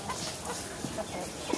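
Fighting cocks and country chickens cluck in short, scattered bursts over steady outdoor farmyard noise, with faint voices in the background.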